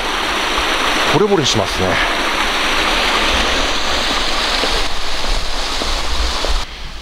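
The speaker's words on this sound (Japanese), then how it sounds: "本当にねこんな清流は" A clear mountain stream on a wooded hiking route flows with a loud, steady broadband rush close by, while someone speaks briefly over it.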